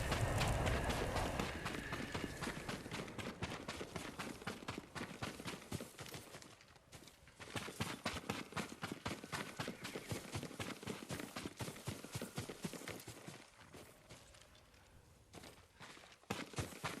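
Hooves of a horse galloping through Ghost of Tsushima on PS4, a steady rapid drumming of hoofbeats that stays loud and close throughout, with no voices over it.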